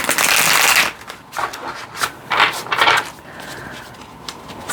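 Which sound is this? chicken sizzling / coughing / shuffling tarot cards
shuffling tarot cards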